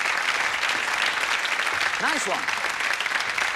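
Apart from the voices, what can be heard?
applause for volunteers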